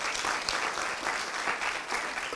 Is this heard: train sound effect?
no